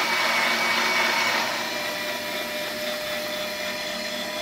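A Turin DM47 conical burr coffee grinder runs its slow motor through the beans, giving a continuous close-up whirring drone that eases slightly in level partway through.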